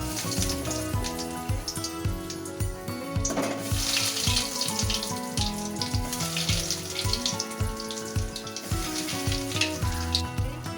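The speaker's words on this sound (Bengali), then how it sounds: "নরম আঁচে ভাজতে হবে, না হলে ওটা ওপরটা ভাজা হবে, ভিতরটা খাঁজা থেকে যাবে।" Chicken balls fry in oil over low-to-medium heat, making a steady, close, bubbling sizzle that continues throughout.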